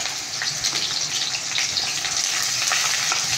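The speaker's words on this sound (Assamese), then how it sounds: "অলৰেডি ফ্ৰাই হৈ গৈছে সিফালে, আৰু এতিয়া আকৌ দি দিছে পিঁয়াজ জলকীয়া" Sliced bitter gourd fries in hot oil with onion and green chilli, giving a loud, steady sizzle close by, with faint stirring scrapes breaking through now and then.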